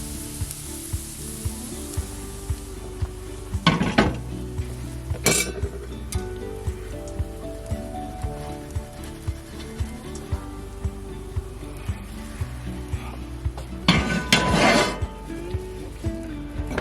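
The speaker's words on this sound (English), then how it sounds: "I'm going to drain the grease in this stainless steel pan" Grease drained from a stainless steel pan after browning beef for beef stroganoff gives a steady close sizzle, with louder bursts of pouring and scraping near the start and again toward the end, plus light metallic clinks.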